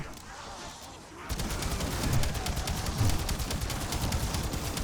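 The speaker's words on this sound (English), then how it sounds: "Deadwire is going ham, taking out everybody." Deadwire electric ammo mod zapping zombies in Black Ops 7 Zombies, heard as a sudden burst of dense crackling rapid-fire pops and snaps that keeps going loud and steady, with no speech.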